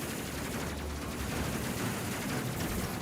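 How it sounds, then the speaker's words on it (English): Lightning cannon weapon firing in a space crew video game, a dense continuous crackling burst of rapid gunfire-like discharges, steady and loud for the full stretch with no talk. "So yeah, lightning cannon,"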